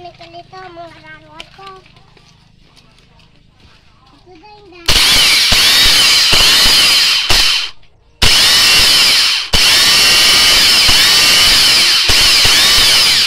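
A repaired car starter motor, its armature and carbon brushes replaced, is bench-tested with two loud, close, high-pitched whirring runs, the first cutting off abruptly before restarting, after a quiet stretch of talk and faint tones.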